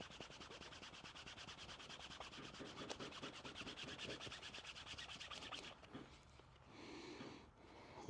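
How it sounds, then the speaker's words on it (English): Leather edge burnished with a canvas cloth, a steady rapid rubbing swish repeating for about six seconds, close and fairly loud, then easing into softer, irregular rubbing. "now I'll go back to my canvas and burnish again"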